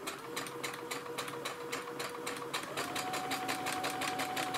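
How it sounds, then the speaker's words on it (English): A sewing machine stitching a trouser pocket, running backwards and forwards to reinforce the seam: a steady fast mechanical rattle with a constant hum, close and continuous, no talking. "so we just can go backwards and forwards just to reinforce the start of the sewing"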